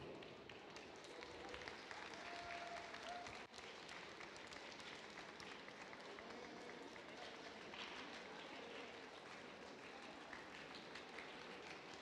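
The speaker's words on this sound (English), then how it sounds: "Another round of applause for Line Follower Turbo." An audience applauds the Line Follower Turbo robot at the Robochallenge 2025 robotics competition, a faint, steady wash of distant clapping that carries on for several seconds.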